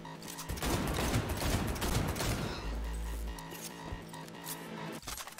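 Rapid gunfire in Cyberpunk 2077 combat, a dense stretch of fast shots over the first few seconds that gives way to a mechanical rattle and lighter clicks, with no clear talk.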